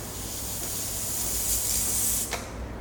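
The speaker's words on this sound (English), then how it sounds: "make some steam to clean the inner." Steady, strong hiss of steam jetting from the steam wand of a Gevi espresso machine during cleaning, continuous and close, with no talk.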